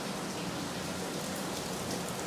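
Monsoon rain falling outside a home, a steady even hiss of downpour with no breaks, soft and somewhat distant, with no voices.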